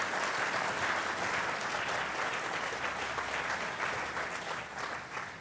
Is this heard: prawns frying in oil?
no